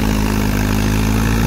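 A Swaraj tractor engine runs at a steady, loud low rumble, close up and constant throughout, with no voices.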